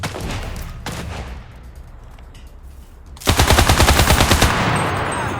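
Gunfire in the video game Cuisine Royale: a steady background of shots, then a loud, rapid automatic burst of rhythmic machine-gun fire from about midway that continues to the end.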